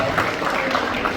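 A crowd at a political gathering breaks into dense, steady applause, many hands clapping together loudly without pause for a short burst.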